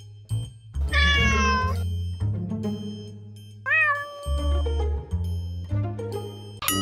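A cat meows loudly several times in long, drawn-out, wavering calls over a steady low musical drone, with a brief chime near the end.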